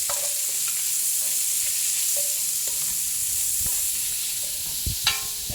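Onions and garlic sizzle steadily in a hot pan for a seafood stew, with a spoon scraping and stirring in scattered knocks, a couple of louder clanks near the end.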